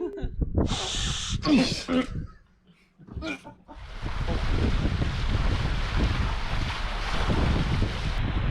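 Wind roars across a moving boat in the Bahamas, a loud steady microphone buffeting that fills the last few seconds after a couple of brief, close voices near the start.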